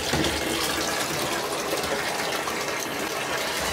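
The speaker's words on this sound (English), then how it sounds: "We're gonna keep adding a little more water though. A little more hot water." Hot water runs steadily from a tap, a continuous loud gushing splash with no pauses, heard alone while mixing chemicals for developing color film.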